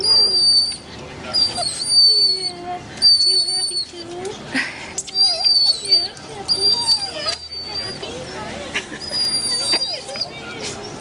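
A family dog greets a soldier newly home from overseas, giving excited whimpers and high, whistle-like whines in repeated bursts, close by, with people talking and murmuring throughout.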